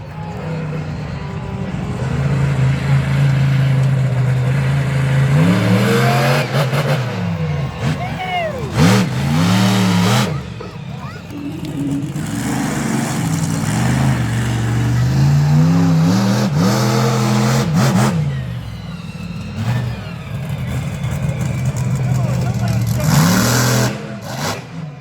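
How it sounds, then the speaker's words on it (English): A monster truck engine fires up and then shuts off in the hot pit at a speedway show, its deep revving rising and falling through several surges under an announcer talking over the public address. "In the hot pit, you hear the truck fire and then shut off."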